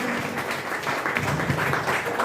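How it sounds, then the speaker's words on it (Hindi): Applause for a schoolgirl at an Independence Day ceremony in a government school, a dense, continuous patter of many hands clapping at steady loudness, with faint voices underneath. "एक बार जोरदार तालियां इस बच्ची के लिए"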